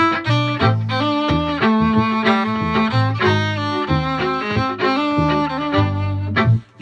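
A violin in C plays a loud, bright, close melody of quick, sustained and bouncing notes that runs continuously and breaks off at the end.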